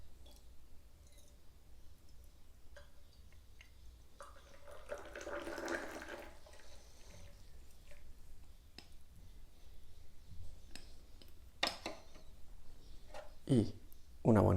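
Hot water is poured over oolong tea utensils (teapot, fairness pitcher, cup) to warm them for a tea ceremony: a soft, splashing pour swelling for a couple of seconds midway, with scattered small clinks and quiet handling sounds around it.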